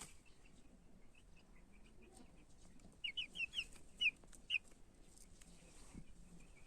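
Chickens of the Shram breed, including a rooster, cluck in a short run of sharp calls near the middle, over a faint, quiet farmyard background.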